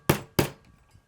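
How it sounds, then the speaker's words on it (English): Two sharp hammer whacks setting a snap cap onto a leather strap, close and loud, the second following quickly after the first, each decaying fast into near silence. "Take your hammer, give it a few whacks."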